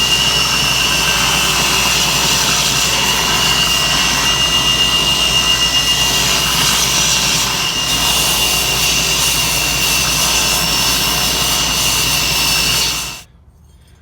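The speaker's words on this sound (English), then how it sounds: "So all we got to do now is run this over the grinder really quick and smooth everything out." A grinder runs steadily for about thirteen seconds while smoothing a hand-forged steel hammer eye drift, a loud, continuous high-pitched whine with a steady low hum beneath, ending abruptly as it stops.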